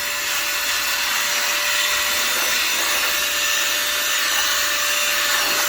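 An electric compressed air duster blows a continuous, steady high-pitched rushing hiss with a faint whine, loud and unbroken for several seconds with no talk.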